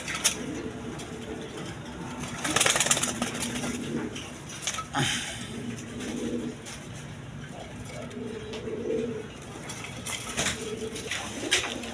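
A pair of high-flying Giribaz pigeons in a pigeon sale enclosure coos in repeated low, throaty phrases, moderately close. A voice briefly speaks now and then amid background rustle.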